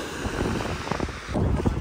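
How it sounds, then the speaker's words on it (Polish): Steady wind buffets the microphone with low rumbling gusts, loud and close throughout, with no clear voices. "pewnie nie będziecie nic słyszeć przez ten wiatr"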